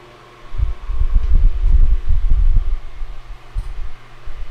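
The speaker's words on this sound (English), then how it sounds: "I'm gonna turn the fan on at 2 and just blow it" A fan switched on at setting 2 starts after a quiet moment, a close, loud low throbbing blow with uneven pulsing buffets that ease off toward the end.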